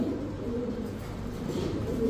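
A male pigeon, a large bird of a racing breed, coos in low, rolling, repeated phrases close by, steady and moderately loud throughout.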